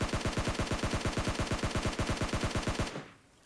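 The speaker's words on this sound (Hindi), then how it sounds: "आगे मुझे फायरिंग की आवाज़ सुनाई पड़ती है" Rapid automatic gunfire in the PUBG Lite battle royale game: a close, loud burst of evenly spaced shots, roughly ten per second, lasting about three seconds before cutting off, followed by a faint single pop.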